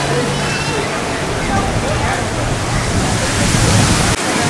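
Water at an outdoor sculpture park in Hamilton, New Jersey, a loud, continuous rushing and splashing like a fountain or cascade, steady throughout with faint people's voices mixed in.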